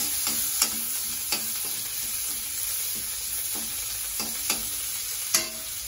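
Onion and dried chilli sizzle steadily in a hot pan, with a spoon scraping and clicking against the metal every second or so.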